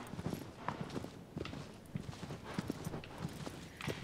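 Horse hooves clip-clop in the video game Shadow of the Colossus, a quick steady run of close, crisp hoofbeats with no talk over them.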